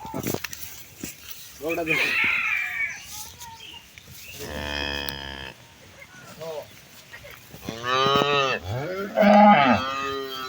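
A high-quality dairy cow on a farm lets out several loud, drawn-out moos close by, with a person talking briefly between the calls.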